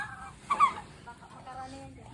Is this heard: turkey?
yes